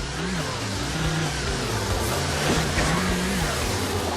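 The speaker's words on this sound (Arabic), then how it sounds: "اللعبة رقم 2 هيل كلايم ريس 2، رغم بساطتها إدمانية جدا، تسابق في تلال ومرتفعات غريبة بسيارات مجنونة" Car engine in the mobile racing game Hill Climb Racing 2, droning steadily with gentle pitch swings as it revs, moderately loud and alone.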